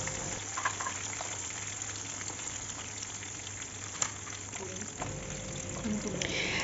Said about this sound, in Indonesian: Jadi ini langsung aja Bun Ai goreng agak banyakan supaya nanti bisa buat Abang Bima pulang sekolah.